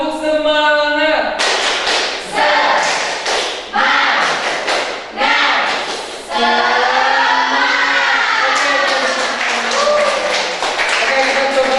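Students in a classroom perform a rhythmic cheer clap, sharp patterned bursts of hand claps alternating with a teacher's voice and the class chanting in unison, loud and close, repeated in several rounds.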